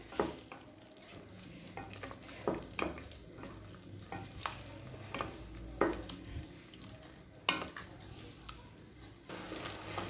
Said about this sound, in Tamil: இப்போ மிளகாத்தூள் வாசனை போக 1 நிமிஷம் வரைக்கும் நல்லா வதக்கிக்கலாம்.